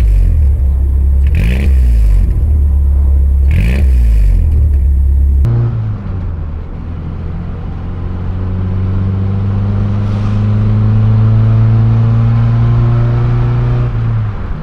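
Chrysler Laser with a naturally aspirated 2.2 TBI engine being driven, loud in-cabin engine drone rising through revs with gear changes, the pitch climbing steadily in the second half.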